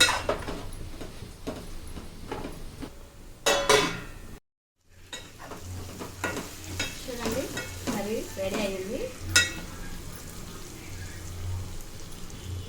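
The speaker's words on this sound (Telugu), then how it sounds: "ఒకసారి బాగా కలిపి ఒక ఐదు నిమిషాలు మగ్గలిద్దామండి మూత పెట్టుకుందాం" Chicken fry with garam masala is mixed in a pan, giving close scraping and clattering stirs over a low sizzle, broken by a brief silent gap before the cooking sounds resume.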